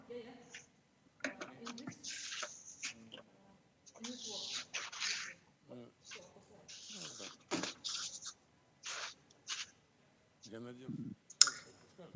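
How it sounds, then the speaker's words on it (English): Keyboard typing comes through as scattered bursts of quick, light clicks, intermittent and fairly close, while people talk over and between the keystrokes. "I can see that some typing is going on."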